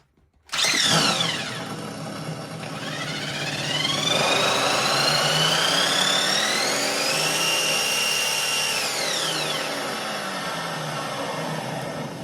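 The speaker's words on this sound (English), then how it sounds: "The engine sound system by GT Power." A GT Power RC car sound module simulates an engine cranking and starting, then revving up and settling into a whining idle that rises and falls in pitch, loud and close.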